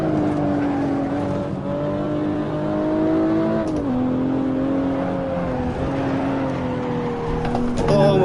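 Race car engine in the Assetto Corsa video game hums at a steady, moderate rev with slight pitch shifts and a brief dip partway through, while someone talks over it.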